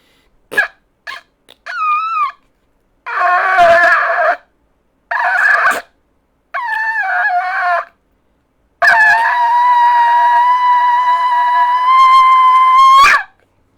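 Repeated amateur attempts to sound a shofar: short sputtering squeaks and broken honks in bursts, then a long sustained, harsh horn blast held for about four seconds, loud and close with no talking.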